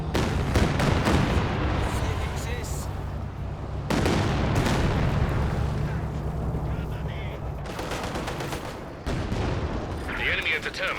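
Artillery barrage in Company of Heroes 2, with heavy shell impacts and rumbling blasts layered over distant gunfire in a dense, loud battle din, while a voice speaks over it.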